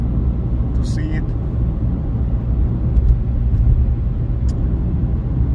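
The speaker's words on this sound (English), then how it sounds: "there's very much traffic now on the way to the volcano" Road traffic of cars heading to a volcano eruption site in Iceland, heard as a continuous low engine and tire rumble close by, with a person talking over it.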